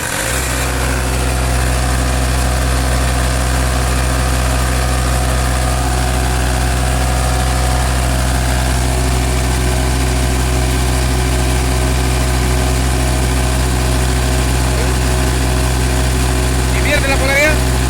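A diesel generator set with a voltage fault runs at a steady loud idle throughout, a constant low droning rumble with a brief clatter near the end.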